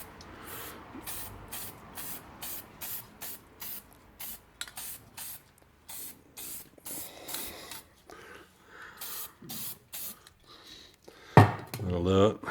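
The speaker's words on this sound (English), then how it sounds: "I've given that a bit of a spray from the underside here" Close, repeated short hisses of an aerosol spray can in a steady rhythm, painting the underside of a 1996 Suzuki Quad Runner metal frame, with a few clatters and a louder rattle near the end.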